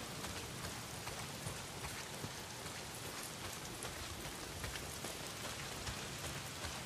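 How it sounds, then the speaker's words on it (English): Steady heavy rain pours down in the open-world zombie survival game Days Gone, a dense, even hiss of drops hitting surfaces that stays constant throughout with no voices over it. "it's pissing down rain"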